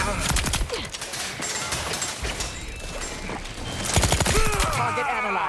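Rapid bursts of automatic gunfire from a weapon in The Outer Worlds 2, loud and close, with sharp repeated shots clustered at the start and again near the end.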